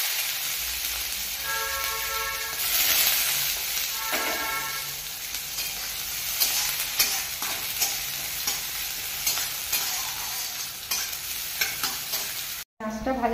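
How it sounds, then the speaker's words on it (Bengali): Onions frying in a pan for a prawn and taro stem curry, a continuous close sizzle with scraping stirs and clinks throughout, loud and unbroken, with no talk. "পেঁয়াজটা ভাজা ভাজা হয়ে গেছে"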